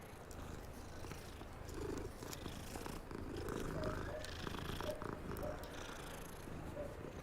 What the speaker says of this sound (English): Hey kitty kitty kitty kitty, let me pet you.